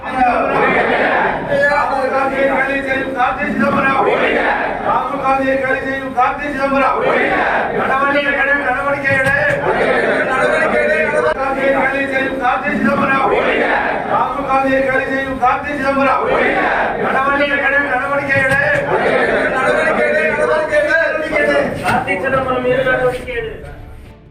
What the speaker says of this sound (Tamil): முழக்கங்கள் எழுப்பி சத்தியமூர்த்தி பவனில் போராட்டம் செய்து வருகின்றனர்